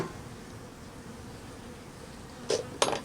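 Low steady buzzing of honey bees in the background, with two brief brighter bursts of a bee passing close near the end.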